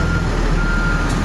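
A pilgrim bus from the Basma fleet, numbered 192, sounds rapid reversing beeps in Mecca, loud and close over a low idling engine rumble, with no voices.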